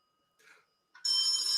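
Telephone ringing in a busy radio studio during a live New York Rangers call-in show, a faint chirp and then a loud, steady electronic ring tone near the mic.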